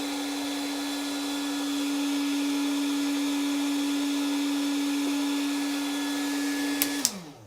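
A Makita 40V cordless heat gun runs steadily with a loud, even blowing whir and a constant motor hum, then clicks off near the end as the motor spins down quickly.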